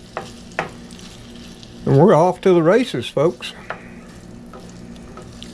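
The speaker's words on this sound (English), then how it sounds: "you can hear it just start to sizzle right now" Chopped chuck stew meat sizzles in a pan of butter and olive oil, a steady frying hiss beneath someone speaking loudly in the middle of the stretch.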